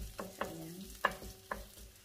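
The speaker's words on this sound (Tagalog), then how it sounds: "Isa-gisa lang natin guys." Garlic sautéing in a pan, a soft sizzle broken by a few stirring scrapes and light knocks, close and brief.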